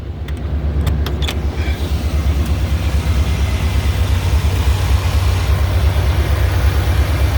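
A Chevy G20 conversion van with a 350 engine idles close by, a loud, steady, smooth low rumble that runs evenly throughout, with a few faint clicks near the start.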